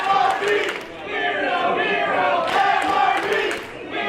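Wrestling crowd at a live professional match, a dense, loud roar of many voices with rising chanting swells, continuous throughout with no break.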